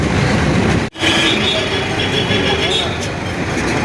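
Busy ambience at Belur railway station near Howrah, India, with a low rumble of trains and crowd murmur, a brief dropout near the start, people talking throughout.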